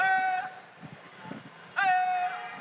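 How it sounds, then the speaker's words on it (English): Camel herders in the Karachi delta call out to their camels with drawn-out, tonal human calls, two clear sustained cries separated by a pause, close and prominent over a low background of murmuring. "This is the sound of the callers calling the camels."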